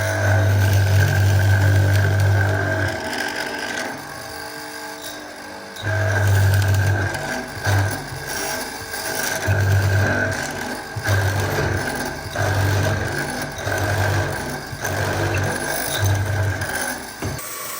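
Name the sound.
bandsaw cutting tenons on reclaimed wooden beams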